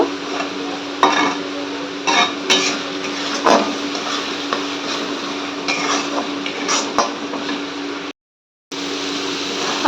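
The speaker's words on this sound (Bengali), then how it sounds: "আদা রসুন কুচি আর পেঁয়াজ কুচি দিয়ে দিয়েছি, দিয়ে হালকা একটু ভাজা ভাজা করে নেব" Chopped ginger, garlic and onion frying in a pan, stirred with a utensil that scrapes and knocks against the metal repeatedly over a continuous close sizzle, with a brief gap of silence near the end.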